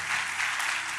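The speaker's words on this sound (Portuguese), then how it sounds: "Eu queria que você aplaudisse o Senhor pela vida dele." Congregation applauding in a church service, a steady dense wash of many hands clapping at once, fairly loud and continuous with no voices over it.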